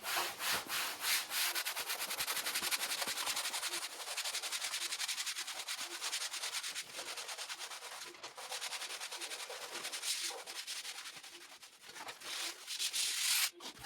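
Contact film being rubbed down onto a concrete-look closet door, a continuous close scraping and swishing friction sound with repeated strokes, loud and steady, without voices.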